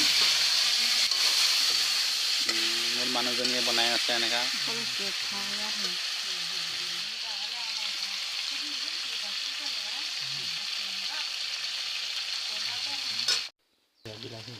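Pork fries in a kadai with a loud, continuous sizzle and the scrape of stirring, as a voice talks nearby early on. The sound cuts off abruptly for a moment near the end.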